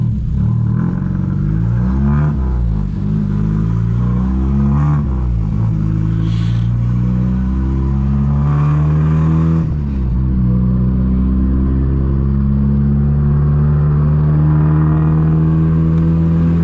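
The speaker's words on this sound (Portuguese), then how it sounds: "Sempre o carro tá barulhento pra caralho, né?" Noisy car engine droning and rising in repeated revs while driving, loud and close from inside the cabin, with rumbling and whirring tones swelling and dropping as the car accelerates.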